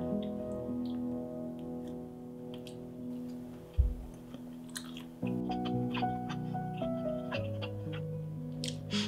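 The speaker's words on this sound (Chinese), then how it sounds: "你可以从我那个咀嚼次数就知道" Close-up chewing of a high-heat, quickly pan-fried French toast, with steady soft mouth sounds, occasional louder bites and a low background tone, with no talking.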